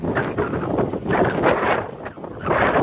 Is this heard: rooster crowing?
no